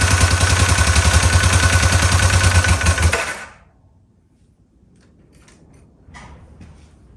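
A carbureted engine with its plug wires just corrected runs loud and rough at close range for about three seconds, then cuts off abruptly, leaving quiet clatter and handling noise.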